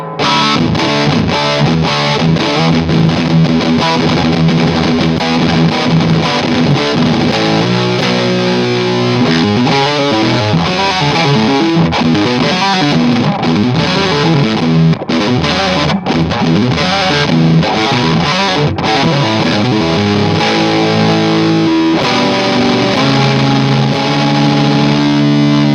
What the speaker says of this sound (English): Vintage versus turbo with distortion all the way up and filter at about 10 o'clock.